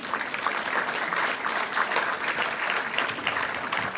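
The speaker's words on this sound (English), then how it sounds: "please keep the applause going" Steady audience applause at a higher education summit awards ceremony, a dense, continuous patter of many hands clapping at even loudness throughout, with no distinct voices rising above it.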